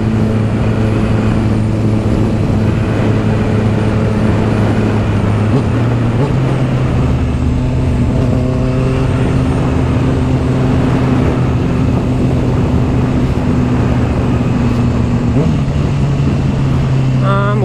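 A Honda CB650R motorcycle cruises under steady engine drone, with a couple of quick clutchless gear changes breaking the tone partway through, and wind and road noise throughout.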